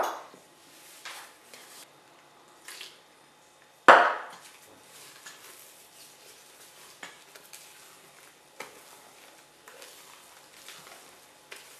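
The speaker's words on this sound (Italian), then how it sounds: "Mescoliamo dal basso verso l'alto per non smontare molto le uova" Eggs and milk stirred into an apple cake batter with a spoon, folded from the bottom up: soft intermittent scraping and tapping against a bowl, one sharp knock near the start, close and fairly quiet.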